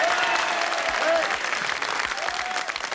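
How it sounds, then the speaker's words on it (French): Studio audience at a French television game show applauds steadily for a contestant being welcomed on stage, a dense wash of clapping with faint whistles or cheers riding on top. "je vous demande d'applaudir Rachid Boulaouan."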